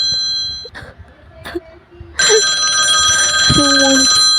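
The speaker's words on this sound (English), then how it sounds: "Oh, let it ring. Let it go on ringing." A telephone bell rings in a radio-drama setting, starting faintly and then sounding loud and sustained from about two seconds onward, with a few brief tonal blips layered over the ringing.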